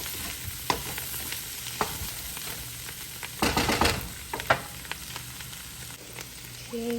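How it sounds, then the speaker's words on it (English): Cauliflower and meats frying together in a pan for a keto breakfast scramble, a steady close sizzle punctuated by occasional stirring scrapes and clinks, with a louder burst of crackling midway. "I'm just gonna let this cook together for a little bit so that the flavors can incorporate"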